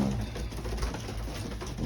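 A loft of pigeons coos in a low, steady murmur during an afternoon feed, the soft overlapping calls filling the space up close.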